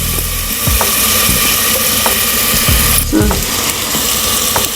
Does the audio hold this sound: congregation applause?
no